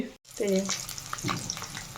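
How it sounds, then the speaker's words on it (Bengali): Eggs sizzle and crackle in hot oil close by, fried for egg curry, a soft, steady frying sound broken by a brief silence near the start. "আমার এখানে হচ্ছে ডিম ভাজা"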